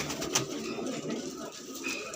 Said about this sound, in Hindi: एक कबूतरी दिखाते हैं आपको,